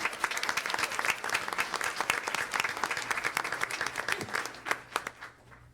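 An audience at a school board meeting gives a round of applause for a student, with many hands clapping briskly and continuously before thinning out toward the end, and some murmuring voices underneath.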